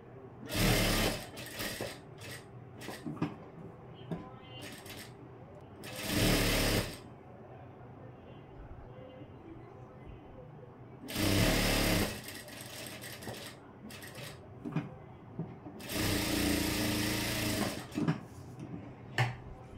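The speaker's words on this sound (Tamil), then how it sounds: "இந்த ஃப்ரண்ட்டுக்கும் அதே மாதிரி யோக் பட்டியை சுற்றி தையல் போட்டுறேன்" Sewing machine stitching around a yoke strip on a blouse front, several loud bursts of rapid mechanical whirring separated by quieter pauses with faint handling noise.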